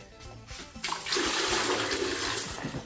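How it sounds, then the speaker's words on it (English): Toilet at a Buddhist temple in Thailand flushes in one strong rushing surge of water, close by and steady for a couple of seconds before tapering. "This is how you flush here."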